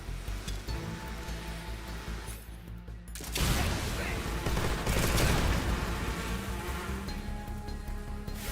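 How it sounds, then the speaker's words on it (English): Gunfire erupts in a Metal Gear Solid Delta game as a shot hits a thrown grenade, a dense crackling fusillade with a sharp burst of noise midway, loud and continuous with no speech. "I can shoot the grenade back at him."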